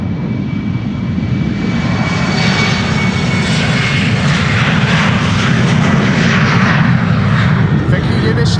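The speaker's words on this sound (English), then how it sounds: "this is a KLM Embraer" A KLM Embraer jet roars loudly and continuously while departing Amsterdam Schiphol Airport, a broad, steady engine rumble with rising whine as it passes close, while someone talks over it.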